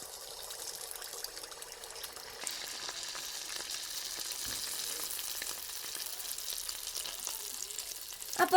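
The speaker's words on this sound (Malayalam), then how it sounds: "അപ്പോൾ നല്ലോണം എണ്ണ ചൂടായിട്ട് നമുക്ക് ഇതിലേക്ക് ഒഴിച്ചു കൊടുക്കട്ടെ നെയ്യപ്പത്തിന്" Neyyappam batter poured into hot oil sets off a soft, steady bubbling sizzle that swells once the batter goes in, then keeps frying evenly and fairly quietly with no talking.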